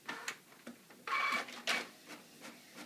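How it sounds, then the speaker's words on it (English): A Canon Pixma MG5320 inkjet printer prints a CD/DVD case label on plain paper, with rhythmic mechanical clicks and ticks and two longer whirring feed and carriage passes, close and fairly quiet. "now we are going to see the printer doing its job"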